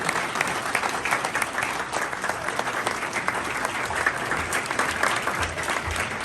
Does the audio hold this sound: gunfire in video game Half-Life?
no